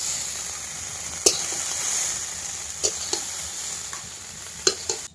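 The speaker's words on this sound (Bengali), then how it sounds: "চিংড়ি ভাজা হয়ে গেছে এবার তুলে নেব" Prawns rubbed with salt and turmeric sizzle as they fry in oil in a home kitchen, a steady soft hiss broken by a few sharp scraping clicks of stirring.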